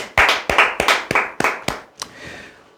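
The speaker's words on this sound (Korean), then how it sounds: "박수 한번 치시죠." A small audience claps at an insurance telemarketing sales talk in a few loud, separate bursts, each about a third of a second apart, close to the listener, with no talk over it.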